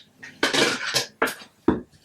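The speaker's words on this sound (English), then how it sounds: "I dropped the lid." A makeup palette lid drops onto a hard surface and clatters, a few sharp, close bangs and bounces in quick succession with short pauses between them and little else around.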